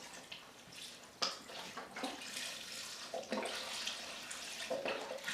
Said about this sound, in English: I'm going to add beef broth.